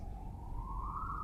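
An emergency siren wails steadily in the background, its tone slowly rising, faint and distant with no voices over it.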